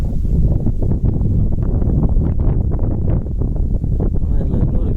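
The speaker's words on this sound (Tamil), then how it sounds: "செம்மையாக காற்றடிக்குது." Strong wind at a hilltop viewpoint near Palani in Kodaikanal buffets the microphone, a constant loud, low roar with gusting flutter throughout.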